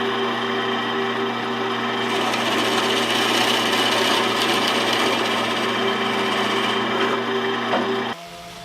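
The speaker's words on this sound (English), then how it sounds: "I'm sanding both legs, all 18 of the hands and the peg" Steady, continuous sanding on wooden legs of a weapons wall rack, a close abrasive rasping that runs without pause for about eight seconds before stopping abruptly.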